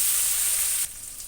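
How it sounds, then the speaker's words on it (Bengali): Chopped onion and tomato sizzle steadily in a hot pan, a close, even frying hiss that softens abruptly near the end. "এর মধ্যে এই যে টমেটো কুচি দিয়ে দেব, এটাও একটু হালকা করে ভেজে নেব।"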